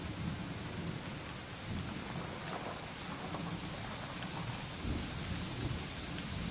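Steady rain with gusting wind in the video game Season: A Letter to the Future, a constant wash of downpour and rumble, dense and unbroken throughout, with no voices.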